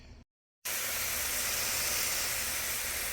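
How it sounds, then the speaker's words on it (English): After a brief gap of silence, a loud, steady sizzling hiss fills the clip, bright and continuous, as tilapia fries in a hot cast iron skillet. "as you can hear, it's already sizzling"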